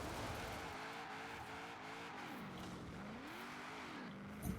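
A drift car in Forza Horizon 4 holds a steady engine drone that rises and falls as it slides, with tire squeal woven through, the sound continuous and moderately distant.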